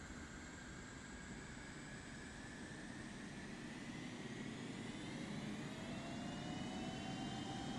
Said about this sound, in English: Somebody brought a jet engine.